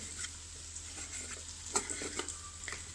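Ginger garlic paste fries in oil with a soft, steady sizzle and a few small pops and clinks, quiet and without talk.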